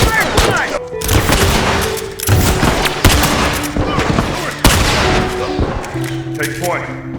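Tactical shotgun blasts in The Last of Us Factions multiplayer, loud close booms fired in a rapid irregular string, with other game gunfire and noise around them.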